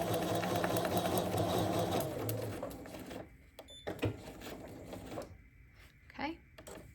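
A sewing machine stitching a lime quilt block runs steadily for a couple of seconds, then stops, followed by a few soft clicks and handling noises at low level.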